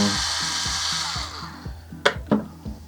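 A power driver backs screws out of a CPU liquid cooler with a close, whirring buzz in repeated short pulses, then gives way to a few sharp clicks and knocks near the end.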